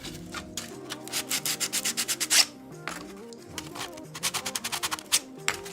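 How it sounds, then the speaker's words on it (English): Sandpaper, around 60 grit, rubbing the edges of a model in quick rhythmic bursts of short strokes, two runs with a pause between, close and loud with no talking. "I guess you can get the old sandpaper out"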